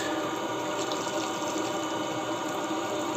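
Hot water from a Webasto Thermo Top heater pours in a steady, continuous stream, a dense even rush with no breaks.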